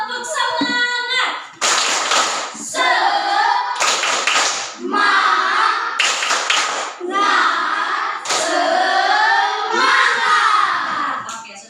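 A primary classroom does a rhythmic spirit clap, with bursts of sharp group hand claps alternating with loud chanted voices in a lively, patterned call-and-clap routine.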